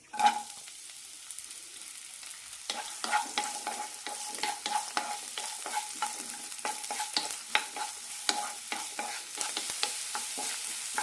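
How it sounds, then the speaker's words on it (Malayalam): Chopped onion, green chilli, ginger and garlic fry in a teaspoon of oil in a pan, a steady close sizzle broken by frequent scraping stirs from a spatula, with no one talking. "സവാള ചെറുതായി ഒന്ന് ഗോൾഡൻ ആകുന്നവരെ വഴറ്റാം"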